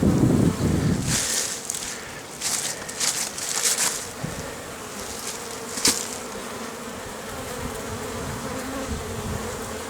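Honeybees flying around hives at a forest apiary, a continuous close buzzing hum with wind gusts rumbling across the microphone, the swarm drone steady throughout.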